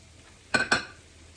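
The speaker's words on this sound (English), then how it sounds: "I'm going to add now 1 tomato, chopped tomato" Chopped tomato tipped into a pan of tender frying vegetables: two short, bright clattering bursts in quick succession against a quiet kitchen background, with a faint clink afterward.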